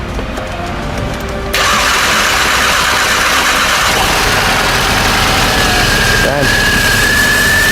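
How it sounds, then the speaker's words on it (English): A VW Golf 7 GTI with a rebuilt engine cranks briefly, catches sharply and settles into a steady, loud idle close by, with a brief spoken word partway through. "Car starts nicely, sharp. Doesn't sound like it's got a misfire."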